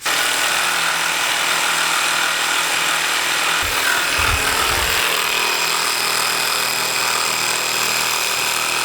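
Walnut wood being polished gives a steady hissing, rubbing whir, like a power sander, that continues the whole time. Several low thumps come in partway through, and no one speaks.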